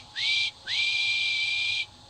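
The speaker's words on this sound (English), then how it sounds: "That sounds like a guard's whistle" Railway guard's whistle blown twice, a short rising blast then a longer sustained shrill tone, loud and close with no other sounds.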